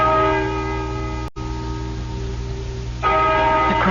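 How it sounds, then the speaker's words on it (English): Church bell tolling in a radio drama, heard near an old barn; a steady, resonant ring with a long sustained hum, briefly cut off, then returning louder near the end, with no voices. "Listen to that bell."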